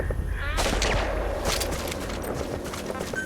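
Soldiers' gunfire in Metal Gear Solid 5: The Phantom Pain crackles in dense, overlapping bursts, loud and continuous through the short stretch amid battlefield noise.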